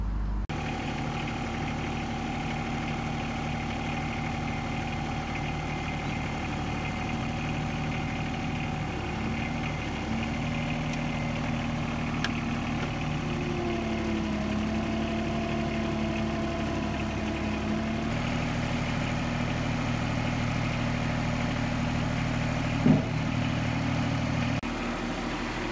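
A tractor engine runs at a steady idle with the loader bucket holding a fifth wheel hitch, a continuous low rumble throughout with slight shifts in pitch and a brief clunk near the end.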